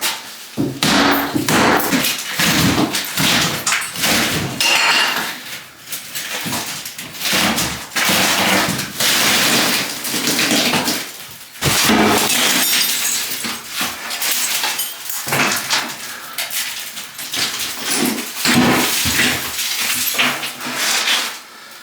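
Bathroom wall tile being smashed out during a remodel demolition: loud, close, repeated heavy thuds and crashing impacts in irregular bursts with brief pauses, with no talking.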